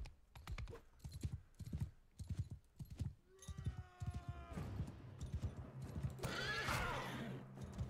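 Rhythmic clip-clop of hooves followed by a horse's whinny in Mount & Blade II: Bannerlord, then a burst of rougher noise; close and clear, with no talking.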